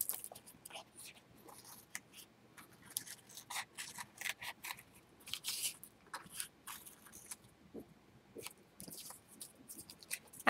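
Scissors snip and slice around a piece of yellow paper during a craft layout, with irregular crisp cutting strokes close and quiet, and a voice briefly speaking in the background.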